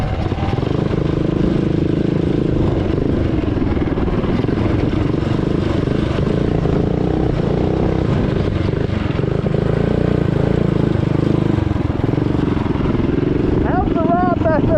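A Coleman CT200U mini bike carrying two riders runs flat out at top speed, its small engine droning loud and steady throughout with heavy wind rumble.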